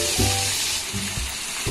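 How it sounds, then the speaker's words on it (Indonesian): Chicken pieces shallow-frying in hot oil for ayam goreng, a dense continuous sizzle and crackle heard close up, with a few brief knocks or clatters from the pan, no voices. "Digoreng secukupnya dulu ya Bun, kita biarin dulu ya"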